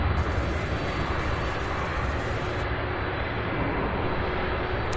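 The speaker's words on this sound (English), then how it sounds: "That one taking off from 17 left, heading to Newark, New Jersey, UPS." A UPS cargo airplane takes off from runway 17 left at Louisville International Airport, its engine roar a steady, loud broadband rumble that holds unbroken for the whole stretch.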